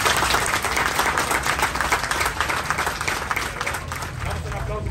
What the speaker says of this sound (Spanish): Vamos a dar un aplauso, por favor.